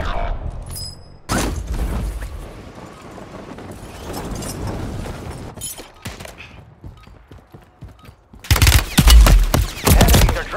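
Gunfire in Call of Duty Warzone comes as bursts of automatic fire and scattered shots, with a heavy, dense volley near the end, over a low rumble of battle.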